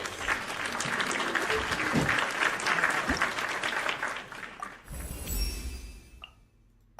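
A burst of enthusiastic clapping and cheering from a group, steady for several seconds before thinning out and fading near the end.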